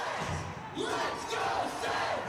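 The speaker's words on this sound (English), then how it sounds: "As the crowd starts to come to life here" An ice hockey arena crowd at a minor league game swells into a rising murmur of cheers and shouts, a broad roar building and falling in waves, with speech mixed into it.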